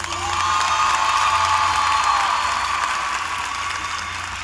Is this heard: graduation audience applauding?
yes